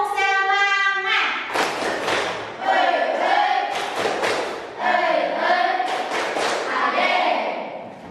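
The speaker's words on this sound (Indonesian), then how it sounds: "Coba tangannya di atas, kita tepuk semangat terlebih dahulu." A class of children doing a tepuk semangat clapping chant, with rhythmic bursts of group claps and thumps mixed with loud chanting voices, while an adult voice sings out first.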